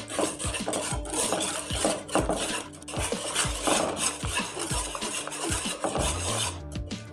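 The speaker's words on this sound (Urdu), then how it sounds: "مسلسل اس کا چمچہ بھی ہلا رہے ہیں" A spoon scrapes and stirs thickening egg halwa in a pot over low heat on the stove, making continuous rasping and rubbing with soft knocks against the pot, close and steady with no talk.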